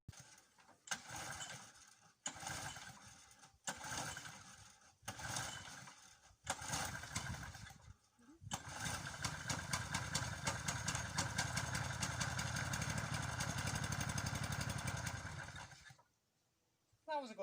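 Small Briggs and Stratton 5 hp lawnmower engine: a series of short pull-start attempts, then a steady running drone from about 8 to 16 seconds that cuts off abruptly.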